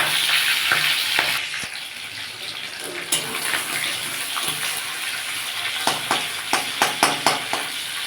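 Fish oil sac dropped into hot oil seasoned with dried chilli and nigella seeds for a vegetable chochchori, a loud continuous sizzle with sharp spitting pops and crackles that cluster toward the end.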